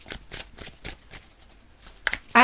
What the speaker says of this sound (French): Si on posait une petite carte sur ce 4 de coupe